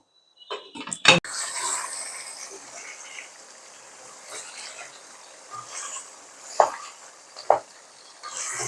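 Beef kala bhuna being stirred in a pan over low heat, with a soft steady sizzle, a sharp clatter of the spoon near the start and a few louder scrapes later.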